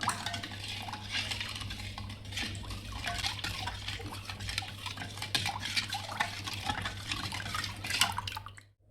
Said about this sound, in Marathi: चम्मचच्या सहाय्याने याला हलवून घ्यायचं आहे मस्त.